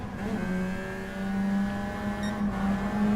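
A steady, loud engine drone with a sustained low hum, like a race car running at constant revs, from the video game Gran Turismo Sport, no voices.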